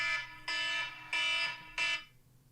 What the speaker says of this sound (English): that was my alarm to go get stuffed peppers